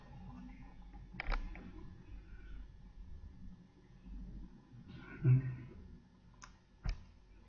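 A computer mouse clicks a few times, sharp separate taps at irregular moments against a quiet room, with a person speaking softly nearby.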